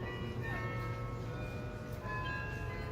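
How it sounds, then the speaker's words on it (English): Westerkirk church bells ring softly in the distance, sustained overlapping tones hanging over a low, steady rumble of background noise, with no talking. "as the bells of Westerkirk ring"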